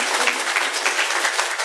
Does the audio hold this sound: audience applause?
yes